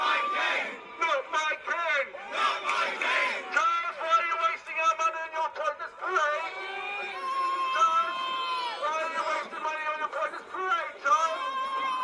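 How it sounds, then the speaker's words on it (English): A public crowd at a Royal Maundy event in York greets King Charles with booing and shouting, many voices yelling and jeering together in a sustained, loud din. "the public booing"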